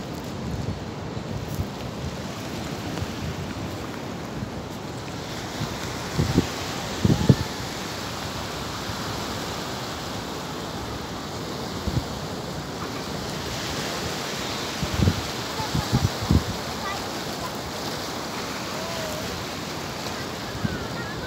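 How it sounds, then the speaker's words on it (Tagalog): Ocean waves at a beach at Darigayos break in a steady broadband wash, with a few louder surges rolling in amid faint background voices and wind. "Lumakas na yung alon, no?"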